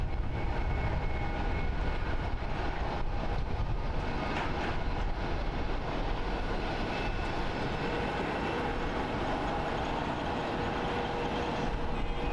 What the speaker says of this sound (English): Taking runway 16 left is Air Due Flight 19 going to CTS.